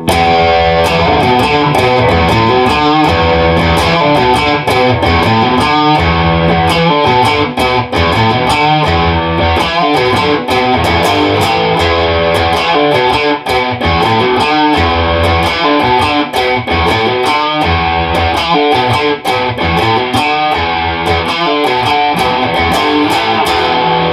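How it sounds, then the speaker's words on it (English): Electric guitar played through an overdrive effect, a dense, continuous heavy chugging riff with rhythmic palm-muted attacks, loud and close throughout with no talking. "All right, let's go a bit heavier, overdrive."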